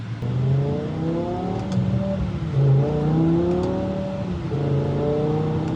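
A BMW M5 with a V10 engine accelerating from inside the cabin, its engine note climbing through several gear pulls, loud and continuous, with no voices.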